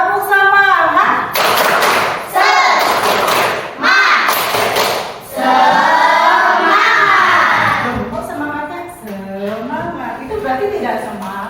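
A school class claps the rhythmic 'tepuk semangat' clap chant, with loud, close bursts of patterned claps and thumps between chanted voices and a teacher talking.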